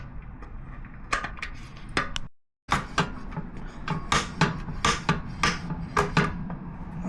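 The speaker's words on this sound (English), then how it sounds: "I don't know where my ratchet went, so we're stuck using this little breaker bar." Small breaker bar working loose the exhaust bolts on a Honda CB500F motorcycle, a series of sharp metallic clanks and knocks close by, coming in an uneven rhythm with a brief silent gap partway through.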